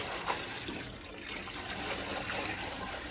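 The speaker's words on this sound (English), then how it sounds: "So now, as he pours it out of the bucket," Maple sap is poured out of a bucket outdoors beside a sugaring boil, making a faint, continuous liquid splashing and trickling sound.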